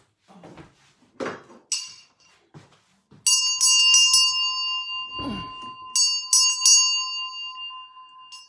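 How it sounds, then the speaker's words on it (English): A small handheld altar bell for an ancestral altar rings in several clear, sustained strikes with long shimmering decay, following a few soft handling knocks and rustles. "Oh, here's my bell."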